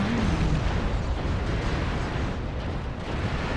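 Artillery strike in the video game MechWarrior Online: a dense, continuous roar of rumbling explosions that stays loud and unbroken throughout.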